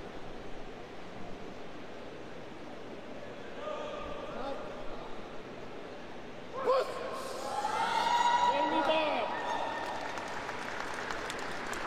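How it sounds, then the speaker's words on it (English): A weightlifting crowd at a competition roars and applauds after a lifter completes a heavy lift, broadband cheering swelling midway and staying loud and sustained to the end, with a commentator talking over it. "Crowd like it."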